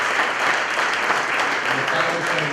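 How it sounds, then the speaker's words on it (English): Audience applause at an annual association meeting, a dense steady wash of many hands clapping together at full strength for the whole stretch, with a faint voice underneath. "Let's give them a round of applause."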